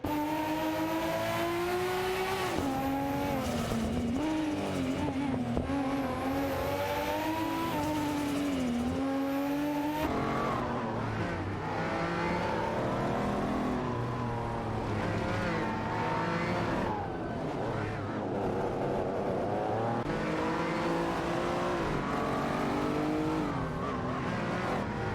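Racing engines from a video game roar without a break, a Lamborghini Countach LP 5000 and a Ferrari 512T howling at high revs. Pitch rises and falls through gear changes, with tire squeal mixed in, loud and constant.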